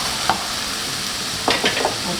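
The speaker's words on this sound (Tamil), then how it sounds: "இப்போ நான் 2 பீட்ரூட், அதாவது 400 கிராம் பீட்ரூட்டு இதை வந்து இதில் சேர்த்துக்கலாம்." Finely chopped beetroot sizzles steadily in a hot pan in a home kitchen, with a few sharp scraping stirs of a utensil against the pan standing out near and clear.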